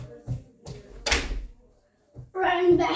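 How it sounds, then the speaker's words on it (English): A door is pulled shut in a room, giving a soft thud and rattle, followed by a louder clunk as it settles closed, with someone talking around it. "I'll just close the door."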